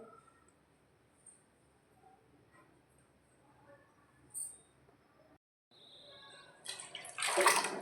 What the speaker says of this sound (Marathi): थोडंसं गरम पाणी करून